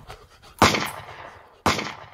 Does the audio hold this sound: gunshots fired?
yes